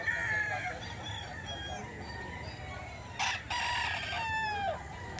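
Young gamefowl roosters, bull stags, crow in a run of long drawn-out calls close to the listener, over a low steady background hum.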